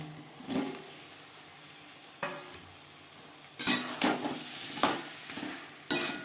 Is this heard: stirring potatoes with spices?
yes